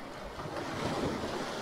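Black Sea surf on a landslide-hit coast near Chornomorsk, Odesa region, a steady broadband wash of waves with wind rumbling against the microphone and no voices.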